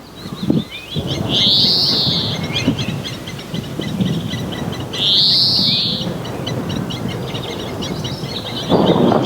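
In Kruger National Park, South Africa, two loud, rising-falling bird calls sound a few seconds apart over a rustling, rumbling outdoor background.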